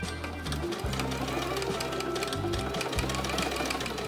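A sewing machine runs steadily while stitching a pocket on a 70s-inspired denim jumpsuit. The motor hums continuously and the needle chatters rapidly, with brief pauses and speed changes along the seam.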